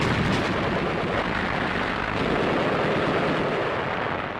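A World War II Allied artillery bombardment in North Africa rumbles as a dense, continuous wall of booming fire and distant blasts, loud and sustained throughout with no voices.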